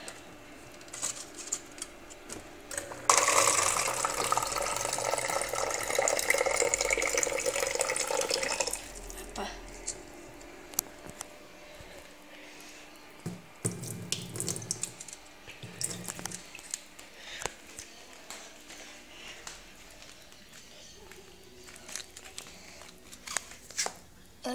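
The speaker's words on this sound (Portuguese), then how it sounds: "então eu vou pôr água." Water is poured into a cup, giving a loud, splashy rush that lasts several seconds before settling into quieter handling and faint rustling sounds.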